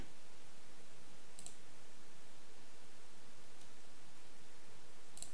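A computer mouse gives three faint, sparse clicks, spaced a couple of seconds apart, over a steady hiss with no talking.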